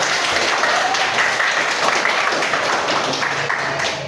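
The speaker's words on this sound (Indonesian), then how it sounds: "Oke, bagus sekali penampilan dari kelompok 1. Tepuk tangan." Classroom applause for a group performance, a dense steady wash of many hands clapping at once for several seconds, close and continuous, fading slightly at the end.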